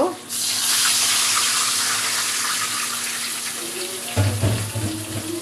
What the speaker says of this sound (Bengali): এবার হালকা একটু পানি দিয়ে দিব।